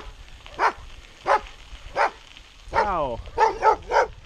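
A pack of dogs at a farm producing garden lawn turf barks outdoors: single barks spaced about a second apart, then a drawn-out yelp and a quick run of barks, with a brief spoken greeting.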